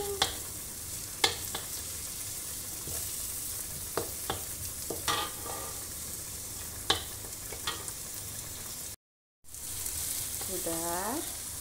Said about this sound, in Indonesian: Bumbunya ditumis sampai wangi.